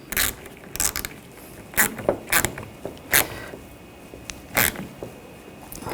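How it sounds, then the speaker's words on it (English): A ratchet wrench tightens a nut on the rear door handle reinforcement of a 2000-2006 BMW X5. Sharp, close mechanical clicks come in short irregular bursts with quiet gaps between them. "And tighten down the nut."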